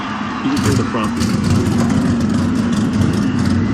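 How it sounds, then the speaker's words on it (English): Race car engines roar in a Pokemon NASCAR video game, a loud droning rumble of several cars rising as they roll off, with a voice talking over the engine noise. "There you hear the engines roaring."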